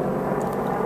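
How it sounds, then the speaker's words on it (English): A helicopter flies overhead during a twin tornado outbreak, heard as a steady, loud broadband roar without break and with no voices. "They're sending the chopper."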